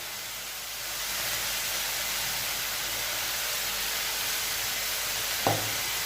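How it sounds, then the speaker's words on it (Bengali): Red amaranth greens (laal data saag) being stirred with salt in a pan, giving a steady broad hiss and sizzle that continues throughout, with one brief sharp scrape or tap near the end. "লবণ দিয়ে এটা আমরা নাড়িয়ে নেব।"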